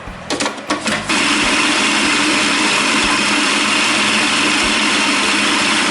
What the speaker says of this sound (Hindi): इसको पीस रही हूँ, इसका कीमा बना रही हूँ